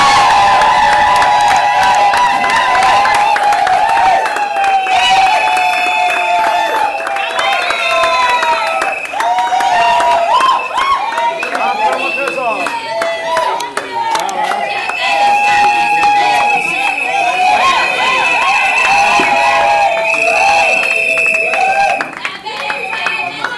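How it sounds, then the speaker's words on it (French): A wedding crowd claps rhythmically and cheers for Trésor, loud and sustained throughout, with voices and singing mixed into the applause. "acclamons Trésor!"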